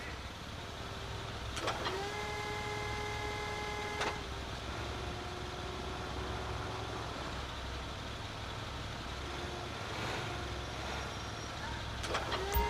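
A container handler, heavy port machinery in the game GTA 5, drones with a low engine rumble while hydraulic whines rise and fall and sharp clanks break in at intervals.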